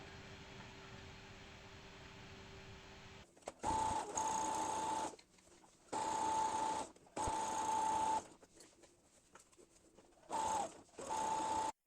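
A sewing machine stitches a double-folded pant hem in loud whirring bursts of a second or two each, separated by pauses, heard up close.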